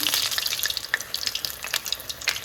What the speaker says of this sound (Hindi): अब तेल जो है वो हल्का सा गर्म हो गया है। अब हम इसमें रोल को फ्राई कर देंगे।